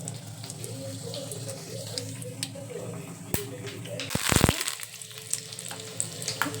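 Cumin and mustard seeds hit hot oil for tempering, sending up a sudden loud crackling sizzle midway that eases back into a low steady frying hiss.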